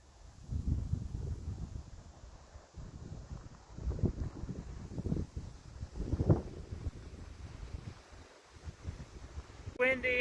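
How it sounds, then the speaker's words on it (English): Cold wind at a mountain lake in Bells Canyon buffets the microphone in low, rumbling gusts. The gusts rise and fall unevenly over a quiet background. "Windy and it's cold"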